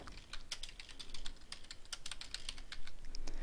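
A computer keyboard is typed on quickly and steadily, a continuous stream of close, light key clicks with no talking, as a textbook title is entered into a library search.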